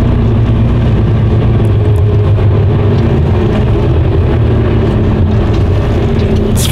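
A vehicle's engine drones steadily and close as it pulls away on the road toward Würzburg, a constant low hum with no voices over it.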